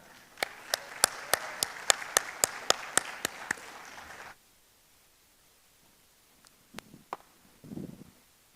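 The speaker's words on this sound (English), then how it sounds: "please welcome with a huge round of applause, Mr. Dijup Tuladhar" Audience applause welcomes a speaker at a design talk. One nearby pair of hands claps sharp, evenly spaced beats over a softer crowd wash for about four seconds, then cuts off to near silence and a few faint rustles.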